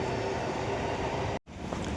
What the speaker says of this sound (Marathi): आवाज नसेल येत नाही, ट्रेन येते.